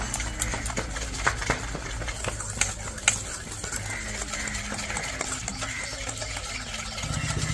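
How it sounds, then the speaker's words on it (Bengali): Sugar and oil being beaten together in a bowl for an eggless fruit cake, a steady scraping and stirring rhythm with a few sharper knocks of the utensil against the bowl, close and moderately loud. "চিনি আর তেল ভালো ভালো করে ফেটিয়ে নেব"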